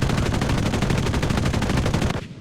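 Aircraft guns of 12.7 mm and 20 mm calibre firing on a strafing run in the game Enlisted, a loud rapid continuous burst of evenly spaced shots that cuts off abruptly near the end.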